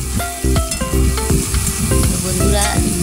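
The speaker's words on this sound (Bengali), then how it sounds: "এরপরে দিলাম আমি জিরে, গোটা জিরে। এবারে দিলাম পেঁয়াজ কুচি।" Whole cumin seeds and chopped onion frying in hot oil for an egg mustard curry, a loud steady sizzle with repeated sharp crackles and clinks of a spatula against the pan, no voices.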